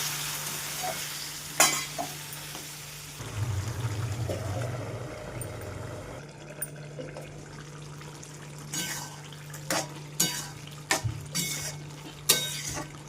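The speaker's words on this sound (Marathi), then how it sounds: "हे पाणी जोपर्यंत आटत नाही तोपर्यंत आपण भाजीला" Round gourd (tinda) with spices simmering in a pan with water, giving a steady low sizzle and bubbling, punctuated by several sharp clinks and scrapes of a spoon against the pan, no voices.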